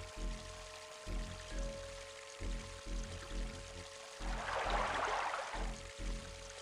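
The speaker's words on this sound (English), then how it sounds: "I filled the goblet, that's what it was" Fountain water pouring into a goblet in Realms of the Haunting, a brief hissing splash rising in the middle over a faint, rhythmically pulsing background hum.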